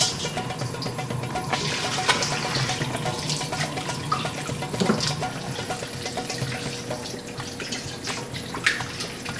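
Tap water running for rinsing a brisket, a steady splashing stream into a sink with occasional clinks and knocks, close and continuous without speech.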